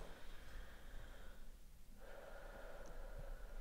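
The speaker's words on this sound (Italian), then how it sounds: "Un altro respirone." A patient draws a deep breath during a chiropractic exam, a faint, close inhale through quiet room noise with a short pause partway through.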